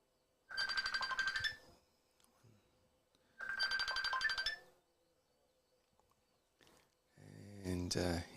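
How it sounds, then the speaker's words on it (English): A mobile phone ringtone goes off twice during live commentary of a cricket match. Each burst of bright chiming lasts about a second, with quiet between them, and a voice follows. "And you probably just heard my phone ring"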